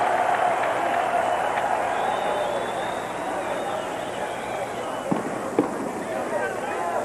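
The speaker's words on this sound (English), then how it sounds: "This Orlando crowd goes back and forth from being roaring to quiet." Crowd at a 1991 Orlando Predators arena football game against the Detroit Drive, a broad roar loud at first that eases off, with a couple of sharp thumps near the end under a commentator talking.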